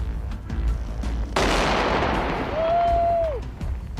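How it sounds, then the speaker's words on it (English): An anti-tank mine is detonated in place by a bomb-disposal team: one sharp, loud blast followed by a long rolling rumble, with a faint whistle-like tone rising from the tail. "EOD decides that it's safer to destroy this one in place rather than move it."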